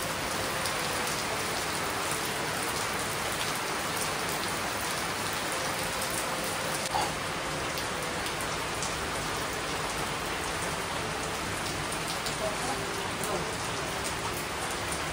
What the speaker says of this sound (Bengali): দেখো বৃষ্টি হচ্ছে